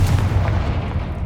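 A Confringo fire spell blast in the Hogwarts Legacy video game, a loud, booming burst with a heavy low rumble that rolls on and slowly fades over about a second.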